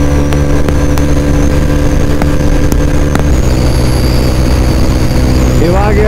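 A Mahindra Mojo BS6 motorcycle cruises in sixth gear, its engine making a loud, steady drone with a constant hum beneath, a faint rising whine near the end, and no speech over it.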